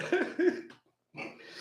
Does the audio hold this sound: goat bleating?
no